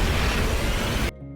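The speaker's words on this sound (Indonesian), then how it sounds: "Saat mereka itu hendak keluar, terjadilah ledakan besar" A loud, dense roaring blast from a big explosion in an animated donghua that fills the sound and cuts off abruptly into near silence with a low hum.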